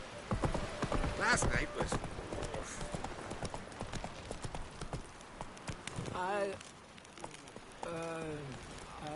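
A horse's hooves gallop in The Witcher 3, a steady clip-clop running throughout beneath game voices and faint rain-like patter, with shouted lines near the end.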